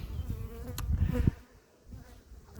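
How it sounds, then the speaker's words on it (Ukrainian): Honeybees buzz close to the microphone around a hive during a cold morning with little nectar flow, a busy droning hum with one loud pass near the mic, then fading to a quieter hum. "Але і бджолки стають чуть-чуть агресивні."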